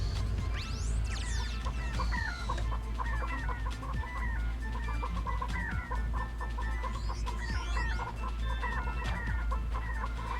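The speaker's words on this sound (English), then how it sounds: "For some reason, they're chickens." Cartoonish chickens cluck and squawk in a Ratchet & Clank (2002) game break room, repeated bird calls over a steady background hum and game effects, with a few rising chirps early on.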